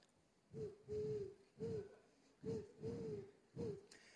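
A voice imitates a cuckoo, giving three evenly spaced two-note calls, low and hooting, against a quiet background.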